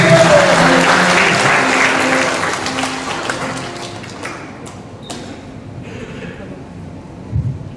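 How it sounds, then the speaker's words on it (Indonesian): A Sunday church congregation bursts into loud applause that gradually thins and fades over several seconds, with scattered claps and a thump near the end. "ayo kita tepuk tangan yang meriah bagi Kristus"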